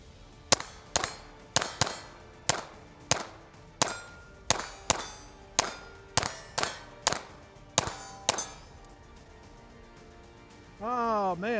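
A Smith & Wesson M&P 2.0 pistol, caked from a sand and clay torture test, fires about fourteen sharp, ringing shots in a steady rapid string; a voice is heard briefly at the end.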